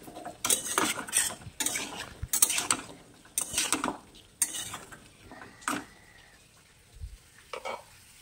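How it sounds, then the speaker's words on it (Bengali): Papaya, carrot and onion are stir-fried with chicken in a pan, a metal spatula scraping and clanking against it in brisk, irregular bursts with quiet gaps between strokes, close and fairly faint. "সবজিটাকেও চিকেনের সঙ্গে একটু ভেজে নিতে হবে।"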